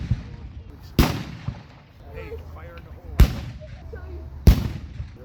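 Three loud, sharp cannon blasts from a 21-gun salute celebrating America's 250th birthday, booming outdoors at a Revolutionary War battle site about two seconds apart. Each blast rings out and fades, with crowd chatter and murmuring in between.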